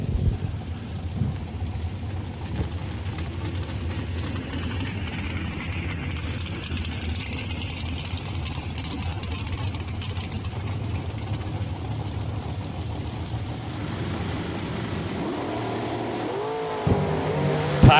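Dragster and a 1966 Chevelle roaring at a drag strip, a steady loud engine drone sustained throughout with a brief surge near the end.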